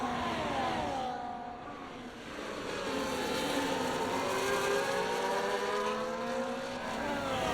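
Formula 1 racing cars in an online game league race at the Netherlands circuit, engines whining steadily at high revs with rising and falling pitch sweeps as several cars run close together throughout.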